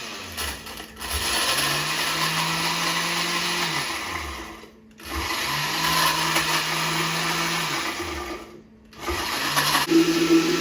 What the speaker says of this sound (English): So we're going to puree these.